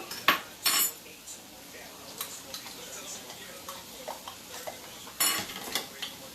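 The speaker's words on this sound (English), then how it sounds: "Whisk that up a little bit." Minced garlic being whisked in a pan while making chicken Alfredo: quiet intermittent metallic clinks and scrapes of a utensil against the pan, with a few louder clatters at the start and later, over a soft background.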